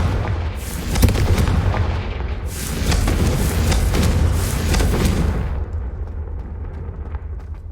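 Repeated Confringo fire spells from Hogwarts Legacy go off as a dense run of booming blasts, loud and close, with bursts and crackle swelling midway before the sound thins out near the end.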